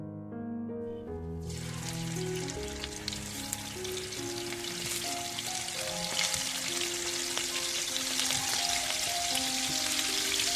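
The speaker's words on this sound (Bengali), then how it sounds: "ওই ছটা ছটা করে মাংস ভালো করে তেলেতে এখন ভেজে নিচ্ছি" Cornflour-coated marinated meat fries in hot oil, a dense crackling sizzle that starts with a sudden burst and keeps bubbling loudly for several seconds, with a faint hum under it and no talking.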